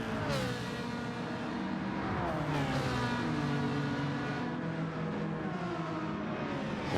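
A pack of GT racing cars battles for position at Yas Marina in a racing video game, several engines whining and shifting pitch together in a close, continuous roar.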